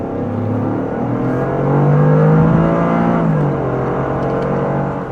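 A Toyota GR Corolla engine in sport mode with the exhaust fully open rumbles loudly and steadily, swelling into a deeper, throatier exhaust roar midway before settling back to a strong idle-like drone.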